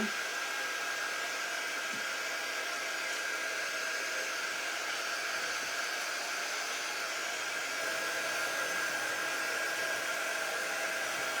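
A hair dryer blows on a craft bow for patriotic decor, a continuous steady broadband roar held close and loud throughout with no talking.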